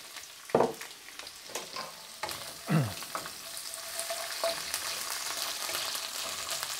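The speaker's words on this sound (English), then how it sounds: "And we'll just get a nice little sizzle out of that." Onion, chili, garlic and ginger frying in hot oil in a pan, a steady crackling sizzle with a few sharp clatters of stirring near the start, loud and close throughout.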